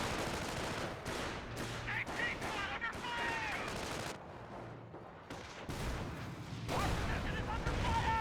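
Rapid gunfire bursts and heavy shots ring out in the Company of Heroes 1 video game as units fire on an AT gun, several loud volleys with booms in between, overlapping someone commentating.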